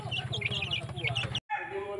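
Chickens cluck in a repeated, busy pattern at close range over a low, steady background hum. A short gap of silence near the end breaks the sound, and the clucking and hum then resume.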